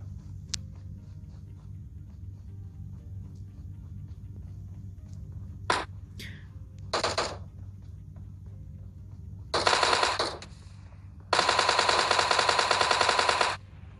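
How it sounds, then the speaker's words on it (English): Automatic fire from a Tommy gun in the video game PUBG rattles out in short bursts, two of them longer, over a quiet low background hum with no talking. "Just use our Tommy gun."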